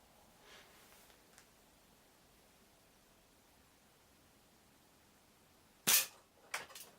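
A catapult shot strikes a 10mm steel plate target mounted on wood, giving one sharp, loud metallic crack late in the clip, followed by a couple of smaller knocks, after a long stretch of quiet outdoor background.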